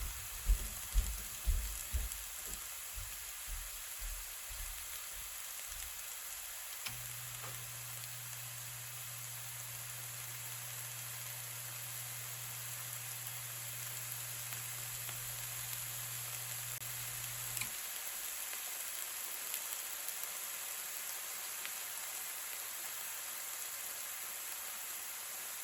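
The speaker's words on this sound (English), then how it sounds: "I'm just gonna let that sit there and cook for a bit." Organic spring garlic sizzles steadily in a pan, a soft continuous hiss that stays quiet and even throughout, with a brief low hum partway through and a few faint knocks at the start.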